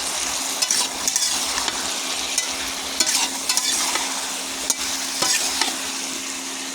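Hilsa fish curry with potato, green banana and chili powder being stirred in a pan, a loud continuous sizzle with repeated scraping strokes of a spatula at an irregular pace.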